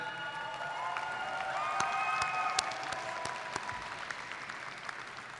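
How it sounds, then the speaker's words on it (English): Applause and scattered cheers from the audience at a university commencement ceremony at NJIT. The clapping is steady and moderately distant, rises slightly midway, then thins out toward the end. "I've noticed Jonathan always travels with his own cheering crowd."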